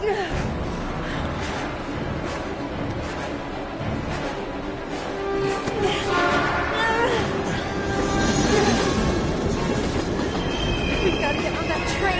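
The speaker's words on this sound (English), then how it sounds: "We've got to get on that train" A train rolls by in the Heavy Rain video game, a loud, continuous rumble of wheels and cars with clacking and squealing metal that grows fuller midway, voices occasionally mixed in.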